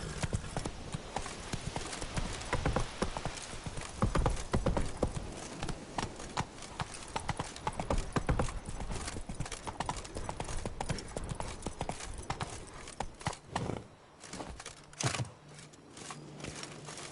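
Horse hooves clip-clopping at a steady gallop in The Witcher: Wild Hunt on PS4, a continuous rapid rhythmic pounding that fills the whole stretch at moderate level, slowing and thinning briefly toward the end.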